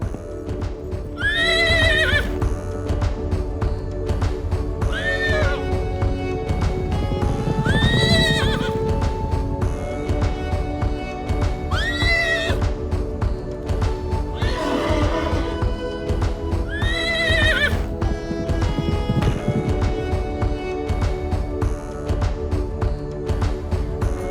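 A riding horse neighs and whinnies several times at a steady spacing, loud and close, over continuous clip-clopping hooves and a low ambient rumble.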